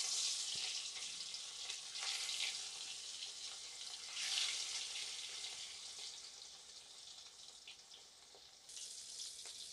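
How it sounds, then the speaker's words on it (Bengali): Pieces of rohu fish fry in hot oil in a wok in a village kitchen, producing a quiet, steady sizzle that swells in a few soft bursts, with no voices. "তেল গরম হয়ে গিয়েছে, এবার দিয়ে দিচ্ছি মাছ।"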